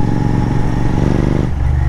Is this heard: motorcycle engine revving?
yes